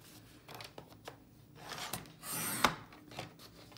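A paper trimmer slices through stacked cardstock sheets, giving a few quiet scraping and rubbing strokes that build to one brief, sharper cut, with no talking.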